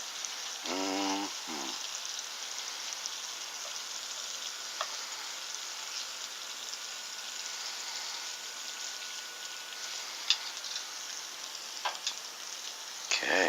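Garlic butter shrimp frying in a pan give a steady, dense crackle and hiss throughout, with a few brief clinks early on and later, and one short spoken word.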